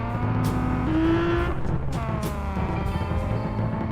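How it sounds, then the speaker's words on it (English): Loud historic race car engines in a video game roar and whine continuously as the cars leave the pit lane, with a rising engine pitch and cars passing close by, no voices. "The cars are very loud getting out of the pit lane."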